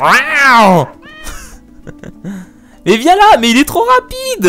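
A cat in the video game Dog's Life meows loudly in long, drawn-out wails at the start and again near the end, with someone speaking in between.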